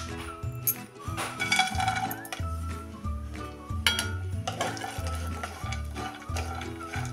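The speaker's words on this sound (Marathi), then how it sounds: "त्या तुपावर आता पहिल्यांदा आपण ड्रायफ्रूट्स परतून घ्यायचे आहेत।" Dry fruits roast in ghee in a kadhai, with repeated rhythmic scraping and clinking of a spoon against the pan over a soft sizzle, close and clear.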